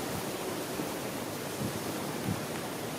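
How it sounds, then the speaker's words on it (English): Strong, gusty wind blows outdoors on a day with gusts up to 40–45, roaring broadly and buffeting the microphone with a few heavier surges. "Well, unfortunately, the wind is picking up even more."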